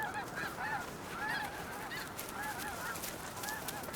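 Several geese honk repeatedly in overlapping calls over a steady rushing background, moderately close.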